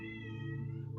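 A cat meows steadily from close by, asking to be let in, a single drawn-out tonal call with wavering pitch that fills the moment on its own.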